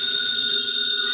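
A telephone bell rings steadily in an old-time radio detective drama, a continuous bright electric trill held at even loudness for the whole short moment with no talk over it.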